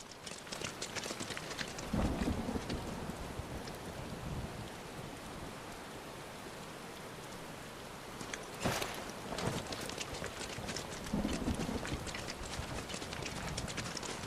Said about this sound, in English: Is this, what is this, acid rain?